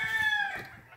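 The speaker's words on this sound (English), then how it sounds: "I love the sound of the roosters." A rooster crows once, close and clear, on a rural Oregon property; the call fades out within a second.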